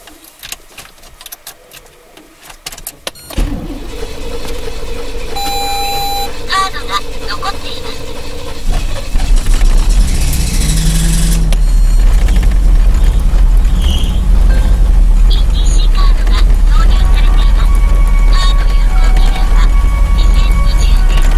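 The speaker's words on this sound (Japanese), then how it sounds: "これからキー回しますけども、ちょっとね、かかりが悪いと言いますかね" A 1983 Pontiac Trans Am with a carburetor engine is slow to start: a short silence, then a long grinding crank that finally catches into a loud, steady idle rumble close by.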